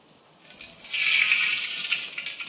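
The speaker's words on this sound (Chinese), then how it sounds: "锅热之后呢，我们倒入我们准备好的这个花生油" Peanut oil poured into a hot wok for stir-fried river snails, a thin liquid stream swelling into a steady hiss and trickle that tapers off, close and moderately loud with no voices.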